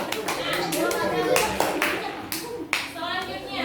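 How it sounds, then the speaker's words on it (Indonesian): A group of children and adults claps for another group in an Indonesian classroom, a dense burst of applause with scattered sharp hand claps and some children's voices mixed in. "kita berikan tepuk tangan kepada kelompok yang lain"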